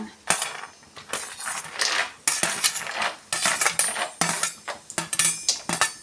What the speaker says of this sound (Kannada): ನೋಡಿ ಈಗ ಆಯಿಲ್ ಕಾದಿದೆ ಸ್ವಲ್ಪ ಕಡಲೆ ಬೀಜ ಸೇರಿಸ್ಕೊಳ್ಳೋಣ